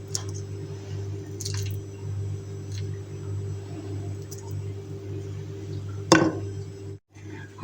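Chicken spices, red pepper and chili paste are stirred together in a bowl for oven-baked chicken and potatoes, soft wet squishing and stirring over a steady low hum, with one louder scrape near the end.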